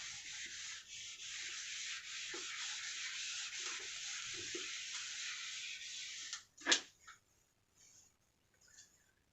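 Eraser or cloth rubbing writing off a classroom board, a steady close scrubbing hiss lasting several seconds, then a few quick knocks and soft brushing strokes as it stops.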